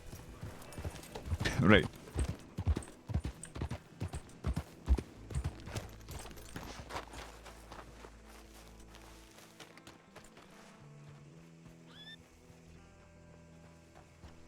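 Hooves clip-clop in the RedM video game as a horse trots, a run of close, rhythmic thuds that fades into a softer background, with a person briefly speaking.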